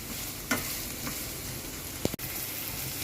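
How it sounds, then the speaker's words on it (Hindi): Onions frying in oil in a pan make a steady, close sizzle under a constant hiss, broken by a couple of brief stirring scrapes and one short clink, with no talking. "इसी ऑयल के अंदर हम सबसे पहले प्याज ऐड कर देंगे"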